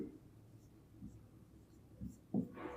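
A pen or pencil writes a fraction by hand on paper. Several soft, faint scratching strokes are heard close up, followed by a brief louder scrape at the end.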